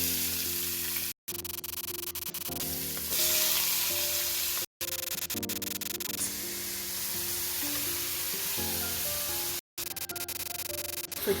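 Onions hit hot vegetable oil in a pan on high heat, giving a loud, steady sizzle that runs continuously with a few brief dropouts and occasional stirring clatter.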